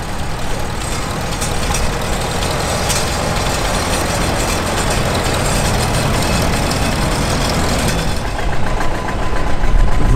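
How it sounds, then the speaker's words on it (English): A 1957 Farmall 350 tractor engine idling at a tractor parade, a loud, steady low rumble with even knocking pulses throughout, close by and alone. "This would have been the big tractor in the mid-1950s. It's a 1957 Farmall 350."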